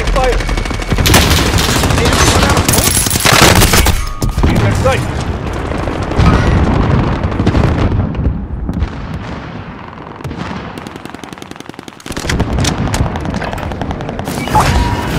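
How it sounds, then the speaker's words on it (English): Dense gunfire in Call of Duty Warzone on the Caldera map during a large team deathmatch: loud, close bursts of automatic fire and booming shots that come in rapid clusters, with a few short pauses between volleys. "Shots."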